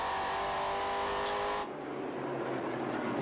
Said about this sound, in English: On board with John McIntyre, who's in the 13th position